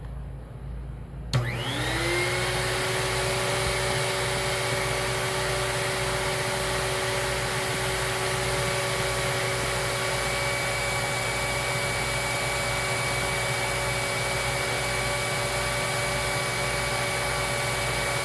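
A Lindhaus Healthcare Pro vacuum cleaner switches on after a second of quiet, its motor whine rising quickly to a steady, loud drone with a constant tone that holds unchanged to the end, and no one speaks.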